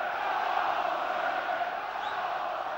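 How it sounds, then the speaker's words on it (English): Football crowd at a Bolton Wanderers match against Wigan Athletic, a broad sustained roar of cheering fans in the stadium, steady and loud from start to finish. "I think that's lifted the crowd, as you can hear."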